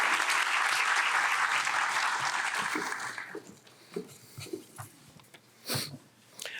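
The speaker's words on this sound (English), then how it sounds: "One more time, a round of applause for Mariana." Audience applause for a Three-Minute Thesis finals presenter: dense clapping for about three seconds, then thinning to scattered claps and small noises.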